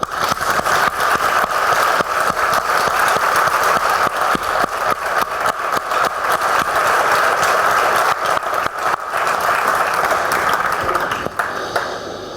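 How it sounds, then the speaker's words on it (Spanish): Audience applause at a book presentation on underground mining in Aznalcóllar, a dense, steady clatter of many hands clapping continuously at fairly close range, holding level throughout before easing slightly at the very end. "Y no pido el aplauso para mí, lo pido para ellos."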